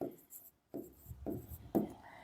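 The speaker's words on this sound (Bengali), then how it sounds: "সো আমরা লিখবো এখন" Pen or marker writing during a maths lesson on inequalities: short scratchy strokes in quick bursts, close and fairly quiet, with no talking.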